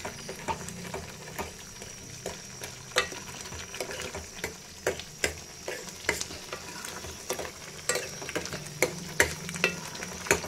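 White pumpkin halwa stirred in a pan with a spoon, giving repeated scraping taps against the metal over a soft, steady sizzle of oil, close and moderately loud.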